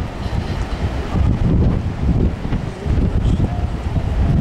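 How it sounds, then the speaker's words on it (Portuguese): Strong wind roars steadily into the microphone outdoors during a building fire at Edifício Cybelle in Boa Viagem, a continuous loud buffeting rumble with gusts and no talk. "E pior que tá com muito vento."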